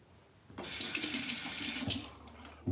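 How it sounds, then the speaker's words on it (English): Warm water runs steadily from a bathroom sink faucet during a safety-razor shave, a continuous close hiss of flow that starts abruptly and stops near the end, with no talk over it. "Now I am using warm water again."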